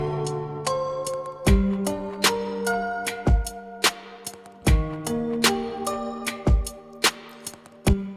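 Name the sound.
drum loop of kitchen percussion samples with kick and snare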